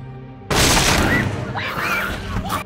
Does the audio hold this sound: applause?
no